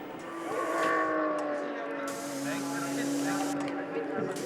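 A Porsche GT3 Cup race car pulls away from a pit stop at Spa, its engine note rising and then holding steady under a commentator's voice, with a faint tire squeal close by.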